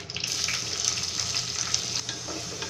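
Fenugreek seeds and onion frying in hot coconut oil for a Kerala-style fish curry, a close continuous sizzle with faint scrapes of stirring and no voices.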